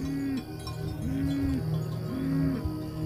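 Cattle inside a Maasai village low in three long, drawn-out moos, one after another, over a steady outdoor background with a faint bell-like clink.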